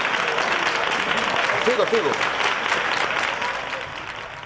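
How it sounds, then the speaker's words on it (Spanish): Studio audience applauding a card magic trick, a sustained dense clapping that slowly tapers off, with a voice speaking briefly over it. "¡Esto se merece un fortísimo aplauso!"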